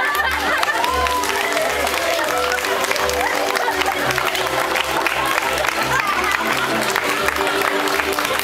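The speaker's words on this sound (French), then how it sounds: "Et on peut les applaudir très fort." A holiday-village audience claps loudly and steadily after a hypnosis show, with dense continuous applause and a few crowd voices mixed in.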